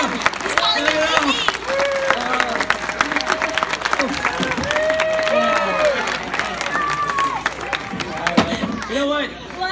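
Audience clapping and cheering at an acrobatics show at the 2016 Colorado Renaissance Festival, steady crowd applause running throughout with voices shouting over it.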